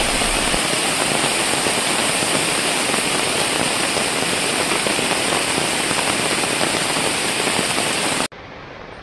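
Heavy rain pouring on a solo camp on a waterfall slope during the rainy season, a loud dense hiss of drops that continues steadily and then cuts abruptly to a quieter background near the end.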